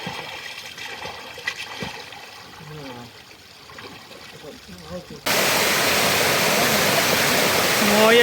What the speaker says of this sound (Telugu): సింగరాయ లోయలో జలపాతాలు చూడండి ఎలా ఉన్నాయో చిన్న చిన్న జలపాతాలు